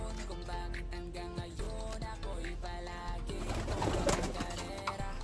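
Tippler pigeons coo softly in a loft or coop, their low calls recurring over a steady background hum, with a brief burst of rustling or fluttering near the end.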